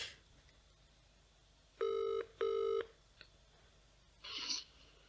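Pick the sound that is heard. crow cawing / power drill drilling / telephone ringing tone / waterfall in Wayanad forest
telephone ringing tone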